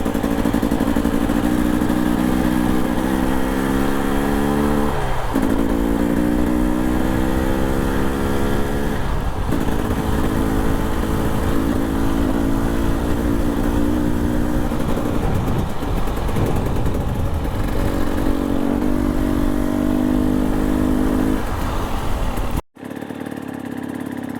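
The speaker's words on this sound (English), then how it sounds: "It's even better on a dirt bike." Dirt bike engine climbs a mountain trail on an enduro ride toward a fire lookout, a loud, close buzzing drone that rises and falls in pitch as the rider shifts and works the throttle, with no talking.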